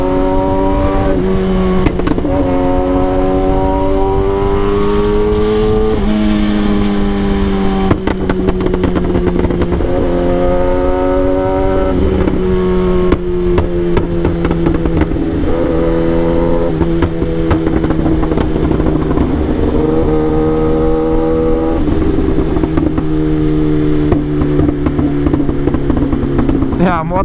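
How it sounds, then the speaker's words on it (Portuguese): A motorcycle engine, freshly washed and detailed, runs close by with steady rumbling and repeated rising and falling revs, under talk. "Minha moto tá que pipoca"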